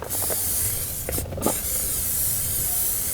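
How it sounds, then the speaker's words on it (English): A short burst of aerosol cooking spray hisses into the bottom of a 10-inch Dutch oven at a tent campsite, brief and close, surrounded by quiet room noise. "putting it in a 10-inch Dutch oven, and I'm spraying the bottom"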